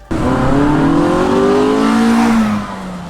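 A stock 1988 Honda CRX Si with light suspension work revs hard and close. The engine holds a loud, steady climbing note for about two and a half seconds before easing off.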